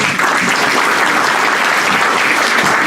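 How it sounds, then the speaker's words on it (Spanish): A church congregation applauds during a Sunday worship service, a dense, steady burst of clapping from many hands that fills the space evenly throughout. "Regálele un aplauso, Señor."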